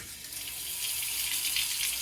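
Water gushing from a newly installed bathroom sink faucet, a steady bright hiss that builds slightly and keeps flowing close by, with no talk.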